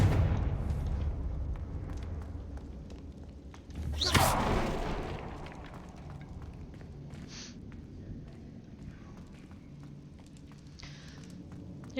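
A single booming fire-spell explosion from the Confringo curse in the video game Hogwarts Legacy bursts out midway, then decays over a steady rumbling game ambience with soft thuds and footsteps.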